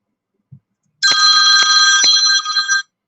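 A telephone rings in one sustained electronic trill lasting close to two seconds, loud and near, with no talking over it, set in a workshop where a Firefly watch is being assembled.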